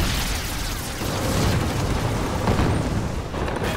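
Dense rumbling explosions and shell bursts overlap continuously on a night battlefield, a loud, chaotic barrage of booms with no pauses.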